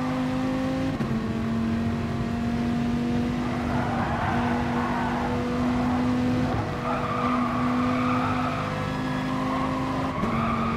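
Race cars in a sim racing game circle the St Croix track, engines droning steadily with tires squealing through corners and gear shifts, loud and continuous with no talking.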